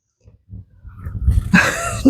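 A dog snuffles and makes low throaty sounds close by during a miniature horse bathing session before a show, with a few soft breaths and scuffles building to a louder huff.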